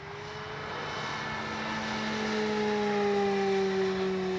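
FMS CJ-6 V2 radio-controlled model airplane engine running at full speed, a steady droning whine that grows slightly louder and shifts pitch as the plane passes, heard alone without talk.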